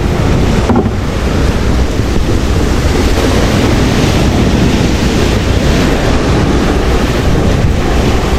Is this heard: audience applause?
no